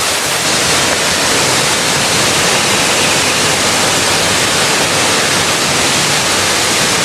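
Waterfall in Uganda roaring steadily and loudly, a dense, unbroken wash of falling water that fills the whole stretch without pause or voices.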